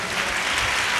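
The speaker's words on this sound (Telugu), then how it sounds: "గట్టిగా చప్పట్లు కొడదాం గట్టిగా" Church congregation clapping steadily at a sermon, a dense, even wash of applause filling the whole moment without a break.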